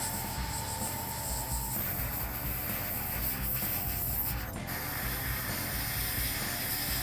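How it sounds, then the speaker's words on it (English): Continuous, loud, steady airbrush hiss as red paint is sprayed onto a figure's gums, filling the whole stretch with dense broadband spray noise and little variation. "make sure that any overspray is cleaned up from spraying all the red on the gums"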